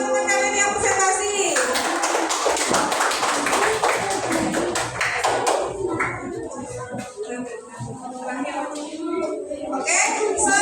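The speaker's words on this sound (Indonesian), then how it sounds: "Beri tepuk tangan untuk teman-teman kalian yang presentasi." Classmates in a classroom applaud groups who have just presented: dense, steady clapping for several seconds mixed with children's chatter, then thinning out as a voice continues over the room.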